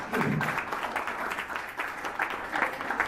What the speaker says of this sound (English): yes, you're applauding